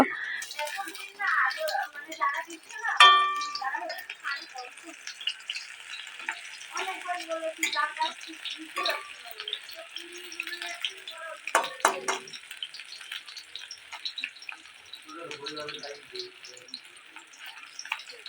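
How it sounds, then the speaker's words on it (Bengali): Bitter gourd slices frying crisp in hot oil, a steady bubbling sizzle throughout with occasional clinks and scrapes of a utensil turning the pieces, moderately close. "আমি মচমচে করে উচ্ছেগুলো ভেজে নিয়েছি"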